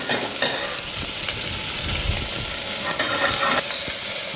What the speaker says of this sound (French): Là on va juste les faire revenir tout doucement, assaisonner un petit peu.